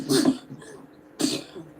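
A sneeze during a live sports talk show discussing football standings, two sharp broadband bursts about a second apart, close and moderately loud, with no talk over them.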